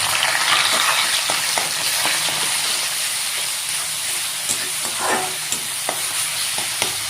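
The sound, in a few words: frying ginger garlic and onion paste in oil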